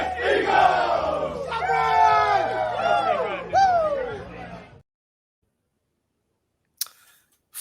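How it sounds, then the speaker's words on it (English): A stadium crowd of Eagles football fans roars and chants in loud, rising cheers of about five seconds, then silence falls, broken by a brief faint click. "From the first pour to the crowd roar."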